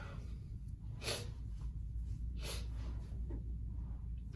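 Repeated nasal sniffles from a person with a runny nose, several short sharp intakes spaced about a second apart, close and fairly quiet against a low steady background hum.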